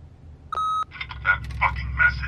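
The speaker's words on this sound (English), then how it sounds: "leave a message at the beep and we'll get back to you as soon as..." An answering machine in The Wolf Among Us video game gives a single steady electronic beep, and then a voice begins talking right after it.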